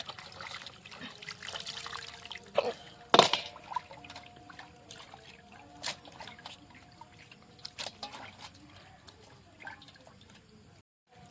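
Raw desi chicken meat is washed in a basin, with soft trickling, dripping and splashing water close by and occasional louder sloshes.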